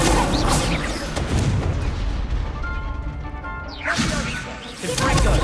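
Fire spell cast in a Harry Potter-style wizard duel video game, heard as loud whooshing bursts with crackling impacts, a sharp swish near the start and renewed blasts near the end over continuous rumbling.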